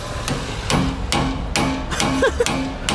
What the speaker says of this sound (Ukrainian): Взяли коротше, молоточок, зубило і зараз будемо той бак ломати нафіг.